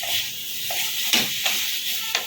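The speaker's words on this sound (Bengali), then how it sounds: "একদম ভাজা ভাজা করবো আমি এটাকে" Pointed gourd frying in a pan for a garlic parwal dish, with a steady sizzle broken by a few sharp stirring scrapes and clinks, close and moderately loud, no talking.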